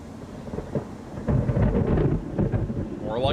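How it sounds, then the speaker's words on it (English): Thunder from nearby lightning strikes in a tornado-producing storm near Haskell, Texas, rumbling loud and close over steady rain and building in a deep roll. "These lightning strikes are pretty close."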